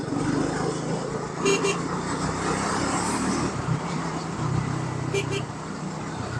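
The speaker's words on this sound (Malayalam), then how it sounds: "ഹോൺ ഇച്ചിരി കൂടെ സൗണ്ട് ഉണ്ടായിരുന്നെങ്കിൽ കൊള്ളാം" Triumph Speed 400 motorcycle horn giving two short, thin honks during a test ride, heard amid road traffic with a person talking over it.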